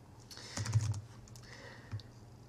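Someone types a search query on a computer keyboard, with a quick cluster of soft, close key clicks followed by a couple of isolated taps, faint against a low background hum.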